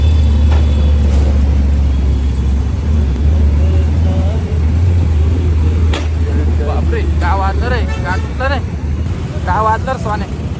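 A steady low rumble of passing road traffic fills the scene, with a person speaking over it toward the end.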